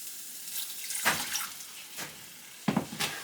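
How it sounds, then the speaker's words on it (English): Water is added to a pot of oats and barley porridge in a few separate splashy pours, with quiet gaps between them and a final burst near the end. "I guess I'll add some more water."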